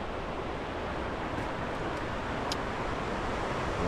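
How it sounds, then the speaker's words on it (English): A river flows steadily beside a bamboo forest trail, a loud, broad continuous rush of water with no voices, steady throughout. "the river is definitely flowing well"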